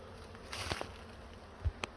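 Wild honeybee swarm buzzing faintly in the background, a steady low drone with a few brief nearer buzzes passing close, with no voices.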